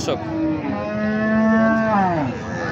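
At a village cattle market, a Friesian cow gives one long, loud, close moo that swells and then trails off. Faint market background sits underneath.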